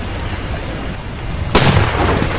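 Ship cannon fire in a naval sea-battle video game: after a stretch of low rumbling background, a single loud, broad boom bursts in near the end and trails off into a sustained rumble.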